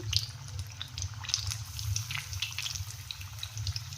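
Chili bajji, battered green chilies, frying in hot oil in a pan, a quiet, continuous bubbling sizzle with small crackles and pops over a low steady rumble, with no talking.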